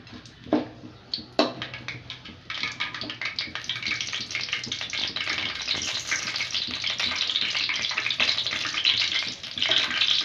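Cinnamon, cloves and star anise drop into hot oil for road-side style chana masala, bursting into a loud, continuous crackling sizzle after a few sharp clinks, close and building steadily.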